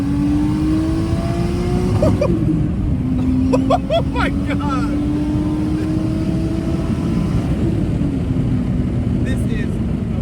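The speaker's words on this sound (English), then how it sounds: "Do y'all hear the turbo? Just listen to that." A Toyota Chaser turbo spools as the car pulls hard. A rising whistle rides over a loud, steady engine roar, and an excited voice briefly exclaims over it.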